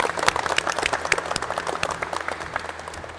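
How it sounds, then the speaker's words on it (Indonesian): Applause from a class of automotive students fills the room, dense, steady clapping that stays loud throughout and slowly tapers near the end, with no talking over it. "Tepuk tangan untuk semuanya."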